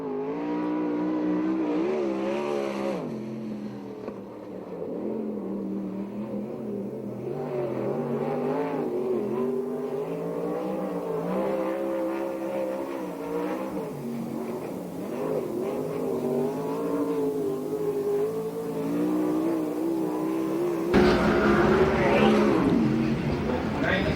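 A sprint car races a lap at the Perris dirt track, its engine note rising and falling steadily around the oval with a sharp surge near the end, heard under an announcer's commentary.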